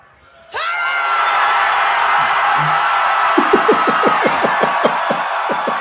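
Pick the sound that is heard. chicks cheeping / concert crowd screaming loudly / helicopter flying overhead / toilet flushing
concert crowd screaming loudly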